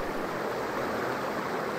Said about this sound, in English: Kind of a waterfall kind of sort of effect.